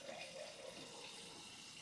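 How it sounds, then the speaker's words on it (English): Water poured into a Pan Galactic Gargle Blaster cocktail, a short, steady splashing and trickling stream that stays fairly soft and unbroken throughout. "Add a little bit of water."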